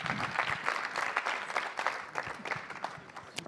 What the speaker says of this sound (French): Et on peut les applaudir, Mef et Calimero.